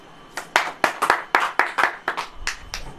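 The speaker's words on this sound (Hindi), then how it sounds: "ताली बजाना।" Hands clap in a church service, about a dozen sharp, fairly regular claps over a few seconds, close and distinct against a quiet background, with no voices.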